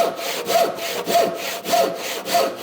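A hand saw cuts wood for a workbench in steady rhythmic strokes, about five push-pull passes with a rasping, scraping tone, close up and with no talking.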